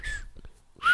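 A person whistles two short, close, fairly loud tones, one at the start and one near the end, with a quiet gap between them and no talking.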